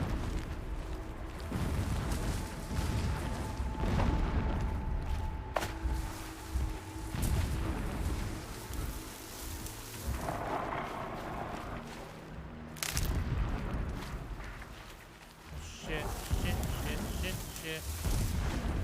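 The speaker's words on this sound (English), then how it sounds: "Explosions in the distance." Distant explosions rumble and boom repeatedly through a Horizon Zero Dawn game scene, low and continuous beneath a steady wash of game sound, with a tonal hum drifting in and out.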